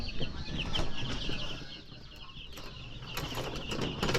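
Chicks peeping and chickens clucking together in a continuous busy chorus, with occasional wing flaps, nearby and without talk.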